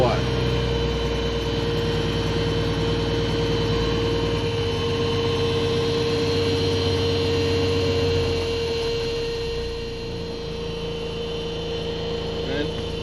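An International Acco 1850D truck's diesel engine runs and idles with a steady, loud low drone and a high whine, close by, and eases off slightly near the end.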